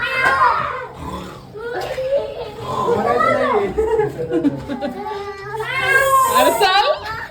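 Loud, wailing peacock calls rise and fall repeatedly, nearby, with children's voices chattering over and between them.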